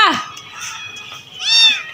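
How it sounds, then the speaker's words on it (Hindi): A small cat stuck on a roof gives two short meows, one at the start and a louder, higher one near the end, close by with faint background noise. "छोटी सी बिल्ली है और नीचे नहीं उतर सकती।"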